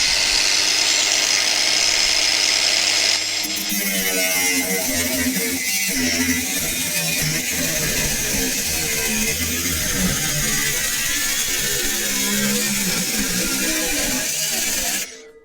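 A Ryobi power tool runs during metal fabrication of a seat pan and electrics tray for a Honda CB750 motorcycle. It gives a steady, close buzzing whine that holds for about twelve seconds, then cuts off abruptly.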